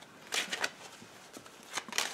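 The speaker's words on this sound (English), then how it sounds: "I've cleared the cards already, so I just have to shuffle them" Ciro Marchetti Kipper cards being shuffled by hand, a few short riffling bursts with brief pauses between them, close and fairly quiet.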